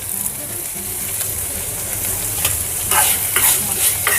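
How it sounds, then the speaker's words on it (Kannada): Curry leaves frying in a pan, a dense hot sizzle with scraping stirring strokes that grow louder toward the end, close and steady with no speech. "ಕರಿಬೇವಿನ ಸೊಪ್ಪು ಹಾಕೋತಿದ್ದೀನಿ."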